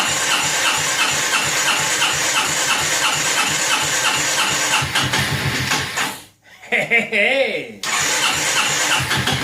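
A 2002 Honda Reflex scooter engine cranks and catches, running loud and close with a steady buzzing drone, then dips briefly before revving back up; someone shouts once over it.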